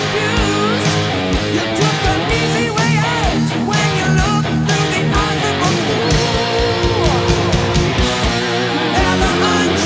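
A loud, full band passage with a gritty distorted electric guitar riff driving over drums and bass, continuous throughout.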